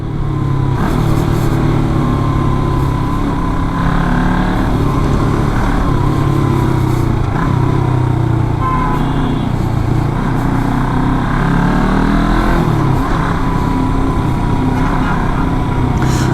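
A Royal Enfield Himalayan 400 twin-cylinder motorcycle accelerates hard in sixth gear, its engine droning steadily and loudly with rising pitch, close up with wind noise.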